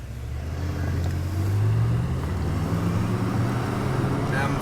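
A BMW M5 and a Mercedes CLS 63 AMG accelerate hard side by side from a rolling start, their engines rising in a loud, continuous roar that climbs in pitch as they build speed.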